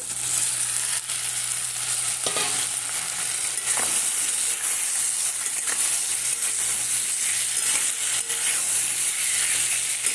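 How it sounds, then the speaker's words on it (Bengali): Parboiled taro pieces drop into a hot frying pan with tomatoes for a hilsa fish head and tail curry, setting off a loud, steady sizzle and hiss that runs the whole time with brief stirring scrapes, no voices. "হালকা একটু সিদ্ধ করে রেখেছিলাম কচুগুলো, তো কচুগুলো দিয়ে দিচ্ছি"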